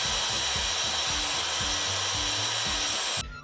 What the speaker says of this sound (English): I run both my sides through the saw and then slightly adjust my fence